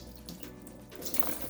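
Water is poured over an iHOOD heated jacket and runs off the fabric in a steady close splash and trickle that grows louder and brighter toward the end, with no talking.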